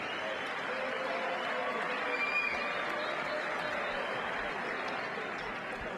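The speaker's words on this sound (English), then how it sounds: "how about a nice round of applause for both fighters" A fight crowd at a boxing or MMA event applauds and murmurs for both fighters, a broad, distant wash of clapping and crowd noise that holds steady without distinct individual claps.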